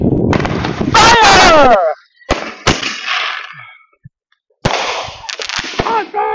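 Fireworks fired off in rounds at a family display: loud near bursts and crackling bangs in clusters with whistling, separated by short quiet gaps, with voices shouting between the volleys.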